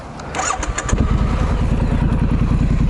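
A Triumph Street Scrambler motorcycle starts up with a brief cranking clatter, then settles into a loud, steady, close-up idle with an even, throbbing pulse and no talking.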